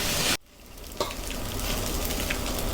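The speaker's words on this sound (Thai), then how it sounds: "ทีนี้เราก็จะเร่งไฟนะครับผม เรามาผัดให้เข้ากันครับผม" Rice with crispy fried fish stir-fried over high heat in a pan, a loud continuous sizzle that briefly drops and then surges back, close and alone.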